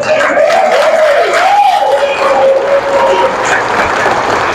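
Worship congregation at a Quiapo, Manila church chapter clapping together, a steady dense wash of applause under a preacher's voice talking over it.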